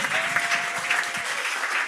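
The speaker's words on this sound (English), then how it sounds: "Give a round of applause for Kelly from Tech Manitoba" Audience at a Manitoba startup pitch night applauding, a dense patter of many hands clapping at moderate distance, steady for a couple of seconds with no talking.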